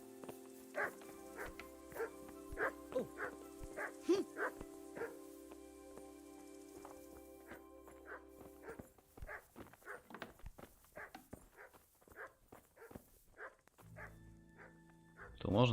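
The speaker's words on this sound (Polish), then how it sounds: "No te psy tak szczekają cały czas." Dogs in a medieval village in Kingdom Come: Deliverance keep barking in repeated bursts, joined midway by footsteps and movement noise, with a louder sound at the end.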